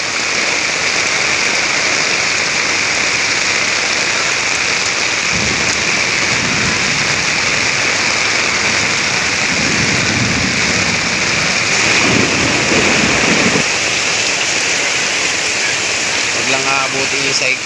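Sudden heavy rain pours down in a loud, constant roar with zero visibility, broken by a few low rumbles, and a person speaks briefly beneath it.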